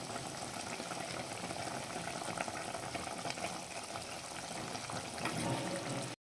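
Sardine peera cooks in a pan and is stirred gently, giving an even, continuous hiss of sizzling and bubbling that holds steady throughout at a moderate level. No one speaks.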